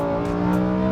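A Lamborghini Huracan Performante's 631-horsepower V10 engine revving loudly up close, a sustained rising mechanical roar lasting about a second.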